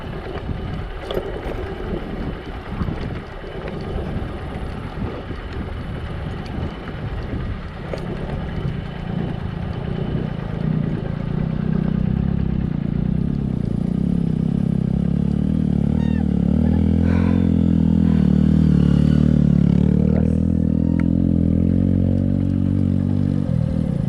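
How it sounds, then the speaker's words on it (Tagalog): Engine noise builds gradually as motorcycles approach and rumble past nearby on a rural road in San Jorge, Samar, with wind buffeting the microphone throughout. "May motor tayong mga kasalubong."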